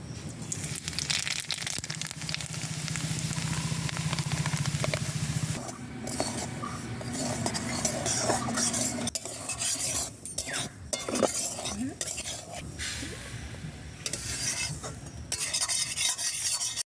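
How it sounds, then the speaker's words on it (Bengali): Semolina fries in mustard oil with black cumin in a wok, giving a soft steady sizzle under repeated scraping and clinking strokes of a spoon stirring against the metal, close by, with a voice speaking at times. "সুজিগুলোকে ঢেলে দিয়ে বেশ কিছুক্ষণ ভেজে নেব"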